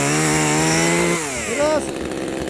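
An Echo CS-2511TES lightweight petrol chainsaw runs at a steady high idle, then its engine note dips and rises in a quick rev before settling lower, close and loud.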